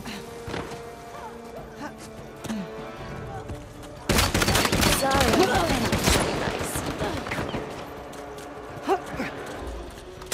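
Rapid bursts of gunfire in an Uncharted 4 multiplayer private match, sparse shots at first, then a loud dense barrage for several seconds that tapers into scattered shots, with faint voices in the mix.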